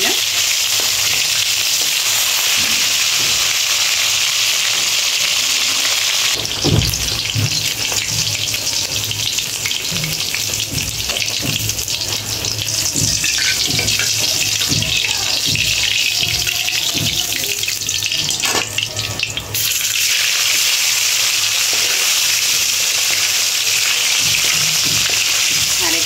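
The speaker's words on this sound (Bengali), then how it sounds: "আরেকটা ছিল, এটাও ভেজে নিই।" Koi fish frying in hot oil for a shim bean seed curry, a steady loud sizzle running throughout with occasional stirring clatter and water-like hiss.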